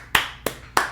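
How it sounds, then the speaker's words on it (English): Three sharp, separate hand claps, evenly spaced and close by, clear against a quiet background. "Can we just give him a round of applause for the"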